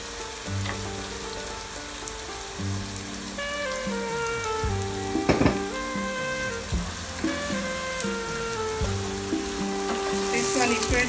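Potatoes fry in a pan with garlic ginger paste while cooking biryani, giving a steady close sizzle that runs the whole time with occasional louder crackles and no talking.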